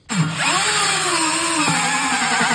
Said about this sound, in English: The carbide tooth hole saw the softest part of the tire without any metal in it.